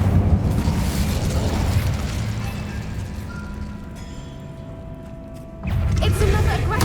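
Incendio, a fire spell in Hogwarts Legacy, bursts out with a roaring explosive rush that fades into a quieter hiss before a second loud blast near the end.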